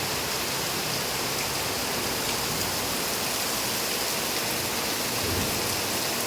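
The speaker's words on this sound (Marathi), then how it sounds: "खूप थंड थंड पाऊस आहे पाऊस भरपूर पडतोय बघा" Heavy, cold rain pours down in a constant, even hiss, loud and dense with no pauses, and no voices over it.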